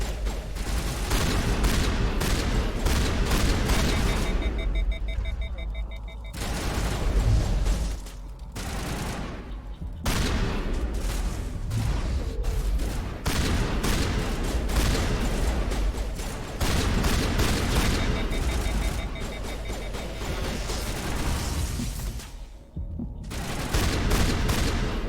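Continuous gunfire from a shotgun in Mass Effect Legendary Edition, with dense overlapping blasts and booms that fill most of the stretch, broken by a few brief lulls.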